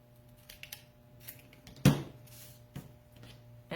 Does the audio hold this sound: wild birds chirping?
no